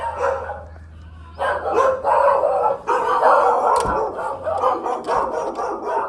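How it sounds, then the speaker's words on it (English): Several dogs barking excitedly at home, loud, rapid and overlapping yips and barks in steady bursts close by, with a brief low hum underneath at the start. "the dogs are going to go crazy."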